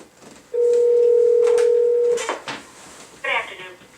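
A telephone on speakerphone places a call: a loud steady dial tone lasts about one and a half seconds, followed by a clatter, quiet, and a short burst of dialing tones.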